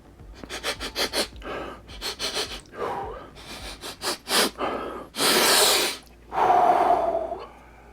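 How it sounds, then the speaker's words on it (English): Close, quick sniffs come in rhythmic bursts, followed by two longer, heavy breaths drawn through the nose. "let's have a sniff."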